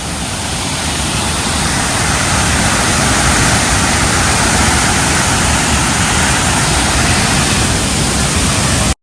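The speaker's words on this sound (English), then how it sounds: "This is the upper deck of the waterfall which goes downstream." Krang Suri waterfall in Meghalaya, a loud, dense, unbroken roar of rushing water filling the whole scene with no talk, cutting off sharply at the end.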